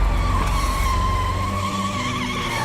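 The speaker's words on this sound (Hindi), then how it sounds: "ड्राइवर उससे बचने के लिए इमरजेंसी ब्रेक लगाता है और गाड़ी पलट जाती है" A car under emergency braking skids, its tires squealing in a sustained, wavering screech over a low engine rumble, loud and close, as the vehicle slides and overturns.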